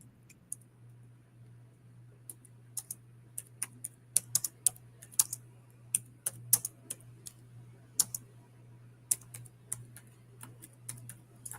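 Light, irregular keystrokes on a computer keyboard, tapping away steadily over a low constant hum.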